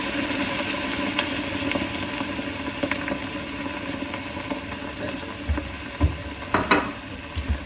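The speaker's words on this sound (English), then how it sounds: "we're going to take our beer and in the pot it goes" Beer poured into a Dutch oven of cooked-down vegetables hisses in a steady, busy sizzle, then clunking, scraping stirs near the end, close up with no voices.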